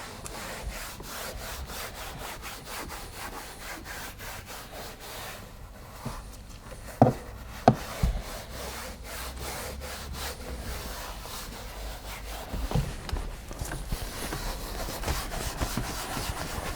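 A brush scrubs APC Plus all-purpose cleaner onto interior plastic trim, giving a steady, close rubbing and bristle scratching throughout, with a couple of brief knocks partway through.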